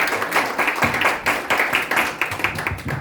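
A church congregation claps for the mothers on Mother's Day, a steady, fairly close patter of many hands sustained through the whole moment.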